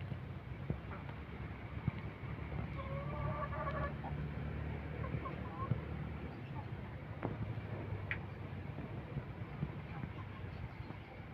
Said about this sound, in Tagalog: yan po yung lagay ng aming mga alagang manok dito sa aming farm